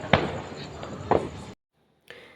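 Diwali firecrackers bursting outdoors in the morning: two sharp, fairly faint pops about a second apart, then a brief silence and a faint trailing sound.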